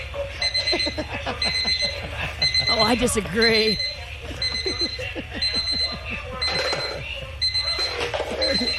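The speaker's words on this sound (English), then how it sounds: "These alarm clocks are set all over her room, and she has no idea where they are." Several alarm clocks ringing at once in a dark bedroom, high repeated electronic beeping in bursts that overlap and persist, while people talk loudly over them.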